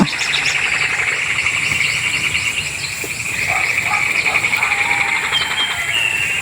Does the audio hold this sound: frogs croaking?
yes